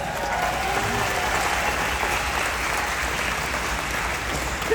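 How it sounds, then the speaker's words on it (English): An audience at a Star Wars fan convention panel in 2025 bursts into sustained applause, a full, even roar of many hands clapping from the hall with no speech over it. "Y'all better clap for that."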